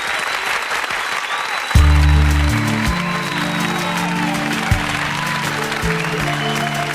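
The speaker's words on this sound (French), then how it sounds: "On les applaudit bien fort." Sustained loud applause from the audience at a secondary-school talent show, dense clapping that continues as booming music with held tones starts partway through and plays over it.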